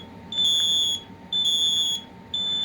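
An ionization smoke alarm sounds three long electronic tones, each about half a second to a second long with brief gaps, loud and alone over a faint low hum.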